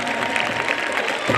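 Audience applause at a stage program, a dense, steady wash of clapping that carries on loudly and evenly for the whole brief moment.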